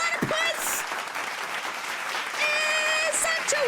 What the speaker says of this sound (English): Let's give a round of applause to Panda Platypus!